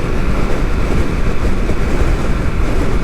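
Wind buffets a helmet microphone while riding a BMW F900 GSA motorcycle at 70 mph on a UK road, a loud, steady rushing roar with low rumble and no speech.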